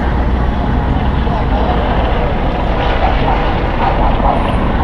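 A U.S. Coast Guard aircraft flying overhead gives a loud, steady engine roar that fills the whole stretch, with a voice talking underneath it.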